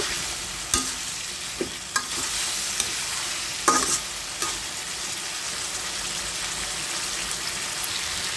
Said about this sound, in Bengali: আর একটু নেড়ে ছেড়ে কষিয়ে নেব